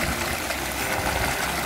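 Waterfall water pouring over carved rock pools in a natural setting, a dense continuous rushing wash that stays steady and fairly loud throughout.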